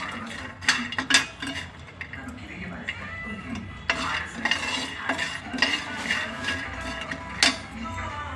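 Spicy peanuts fried over a low flame while a spatula stirs and scrapes the pan, giving irregular metallic clinks and scrapes over a faint sizzle, close by, with a few brief background noises.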